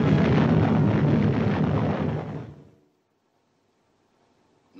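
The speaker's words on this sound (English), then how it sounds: "a tremendous explosion on the surface of the sun" A huge explosion on the surface of the sun, a 1956 film sound effect, erupts as a loud, dense roaring blast for over two seconds. It then fades quickly into near silence.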